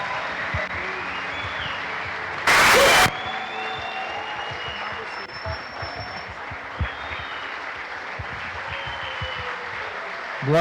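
Church congregation applauding at an Easter service, a continuous crowd clapping that holds for several seconds, broken early by a loud burst, with faint voices underneath.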